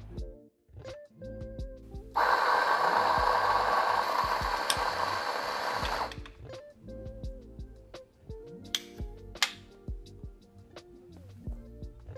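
Coffee grinder set to a finer grind for ristretto, a loud whirring burst of about four seconds framed by small clicks, taps and handling noises.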